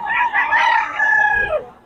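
A young stag gamecock crows close by, one long harmonic call lasting nearly two seconds with a brief break early on, heard alone with no talk.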